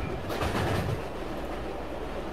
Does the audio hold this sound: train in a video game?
yes